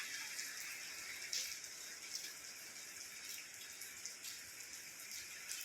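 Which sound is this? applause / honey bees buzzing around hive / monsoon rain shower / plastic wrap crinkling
monsoon rain shower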